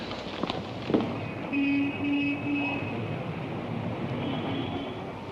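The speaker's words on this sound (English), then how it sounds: "Los Angeles Limited, leaving on track number 7. It's our train." Los Angeles Limited passenger train pulling out of a station in a 1940 film, a low rumble with clanks and a faint whistle-like tone, fairly distant and steady.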